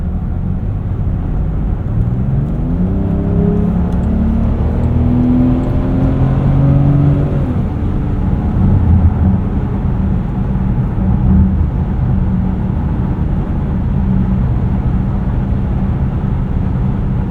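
A 2024 Range Rover Velar P400 Dynamic SE cruises with a steady, loud engine drone and road roar, the engine note rising through the first seconds before settling into an even hum.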